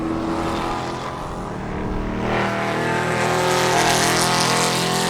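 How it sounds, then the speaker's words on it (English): Spec Corvette race car on the Sebring track during an SCCA race, a loud continuous engine roar that builds and swells as the car passes close by, with no talk. "There's your 3rd place Spec Corvette."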